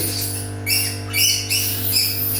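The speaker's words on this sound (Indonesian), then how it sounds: "memang suaranya monyet kayak gitu" A pet monkey kept in a home mini zoo gives repeated high, squeaky chattering calls in several short bursts, close by and fairly loud over a steady low electrical hum.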